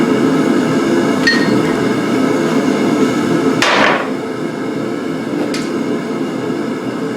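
Steel being forged into a butcher knife on an anvil, with a few heavy hammer blows spaced seconds apart, each ringing sharply over steady forge-shop noise.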